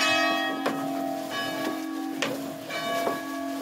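Several church bells toll for the dead with overlapping ringing strikes every half second or so, their tones sustaining and blending together.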